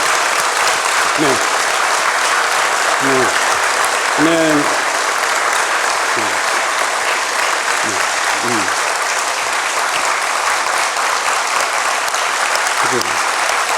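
Church congregation at a Sunday worship service clapping loudly and continuously, a sustained wash of applause with scattered voices calling out over it.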